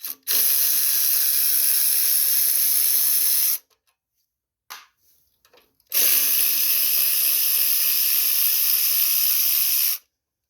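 Ratchet with an extension loosening the carburetor bolts on a Husqvarna front-tine garden tiller, sounding as two long, loud, steady bursts of close, fast mechanical rattling separated by a short quiet pause.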